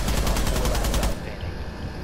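Automatic gunfire from a rifle in Rainbow Six, a rapid burst of close, loud shots for about a second before it cuts off into quieter game ambience.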